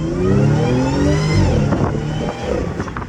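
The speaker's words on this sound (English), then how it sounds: "Now guys, I want you to hear that supercharger." A high-mileage Audi with a supercharged engine is revved hard close by, its whine and engine note climbing and sweeping through rising harmonics before the pitch breaks into rougher pulses as it settles.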